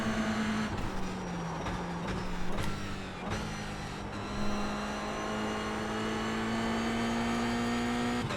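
A race car in a video game on a qualifying lap at Daytona, its engine holding a steady droning pitch that dips and climbs through shifts, with intermittent clicks and thumps.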